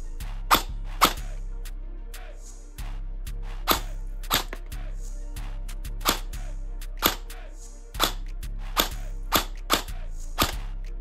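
Sharp, evenly spaced snaps of an airsoft gun firing BBs through a chronograph, a dozen or so close shots over a steady low electric hum.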